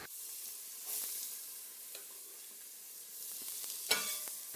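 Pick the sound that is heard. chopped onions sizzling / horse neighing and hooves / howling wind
chopped onions sizzling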